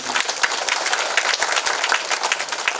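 A church congregation at a Catholic parish blessing of a Marian grotto claps loudly and steadily for Monsignor, dense close applause filling the whole moment without talk.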